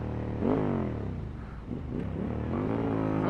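A Ducati 916 motorcycle engine revs up and down in rising and falling sweeps while the rear tire briefly locks up, heard close and fairly quiet with no talking.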